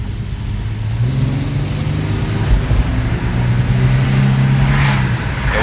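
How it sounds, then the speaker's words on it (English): A Cadillac CTS with a newly replaced support bearing is driven under hard acceleration, with a steady low engine drone and road rumble heard from inside the cabin and no knocking. "taking it out for a test drive"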